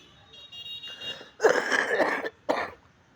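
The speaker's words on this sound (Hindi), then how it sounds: "थोड़ी खांसी आ रही, इसीलिए आप लोग क्षमा करना।" A person coughs nearby, first a rough, drawn-out hacking burst, then a single shorter cough after a brief pause, in a quiet room.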